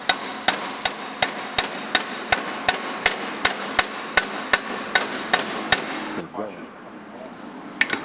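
A hammer strikes a socket to drive a bearing into a Corniche water pump. About fifteen sharp metallic blows come at a steady, even pace, then stop, followed by a pause and a couple of final taps.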